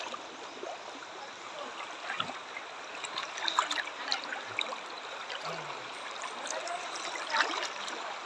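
A clear river flows and trickles steadily at a moderate level, a continuous watery rush with small gurgles, and no voices are heard.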